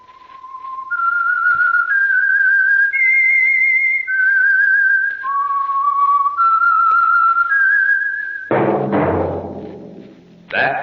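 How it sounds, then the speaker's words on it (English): A person whistles the slow, clear melody of The Whistler radio drama theme up close, note after note, before a loud burst of other sound breaks in near the end. "That whistle."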